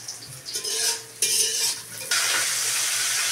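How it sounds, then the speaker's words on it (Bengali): Onion and garlic sizzle in oil in a wok while a metal spatula scrapes and stirs, the frying hiss swelling loudly in bursts, no voices. "কড়াইতে পেঁয়াজ এবং কি রসুন দিয়ে দিলাম। এখন এটা ভালো মতন ভাজা হয়ে"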